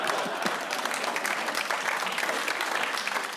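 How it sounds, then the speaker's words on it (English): A British television panel-show studio audience claps unevenly and hesitantly, a dense, moderately soft patter of many hands held at an even level without any speech. "A British audience clapping uncertainly"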